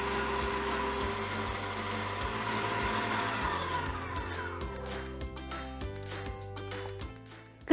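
Stand mixer beating eggs with sugar and salt in a bowl, a steady whirring motor drone that holds for several seconds with a shifting tone, ending in a sudden louder clunk.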